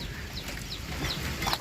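Chickens cluck softly in a yard near an outdoor cooking area, a few faint short calls over a noisy background.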